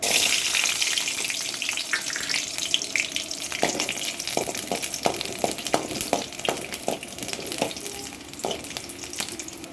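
Garlic sizzles in a pan with roasted chillies for a sesame tomato chutney, a constant close frying hiss broken by sharp spatula clinks and scrapes as the mixture is stirred.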